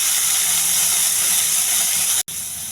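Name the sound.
potatoes frying in a pan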